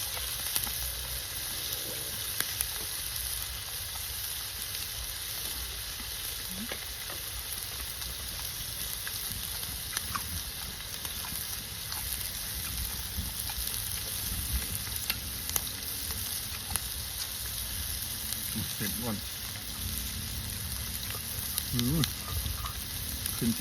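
Steady, loud sizzling of grilled beef on a hot Thai barbecue grill pan, a continuous crackling hiss with occasional sharper pops throughout.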